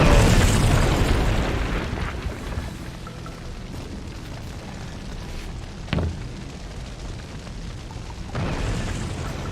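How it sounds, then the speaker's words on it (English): A deep video game explosion in We Happy Few booms at the start and rolls off into rumble, followed by a sharp crack midway and another loud blast near the end. "Be a lot easier if I didn't have explosions in the background."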